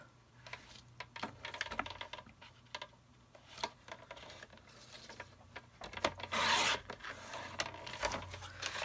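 Cardstock being scored and cut by hand at a crafting table, a run of quiet close scrapes, taps and clicks with a longer louder swipe of the blade partway through, no voices.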